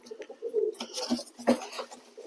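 Young pigeons coo in low, throaty bursts, close by, with shuffling and rustling noises mixed in.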